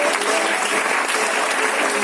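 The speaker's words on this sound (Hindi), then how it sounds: "तालियां ललित जी के लिए और दिव्यांग जी के लिए।" Audience applause at a Delhi training program, a steady dense wash of clapping from a crowd that fills the whole moment without pause.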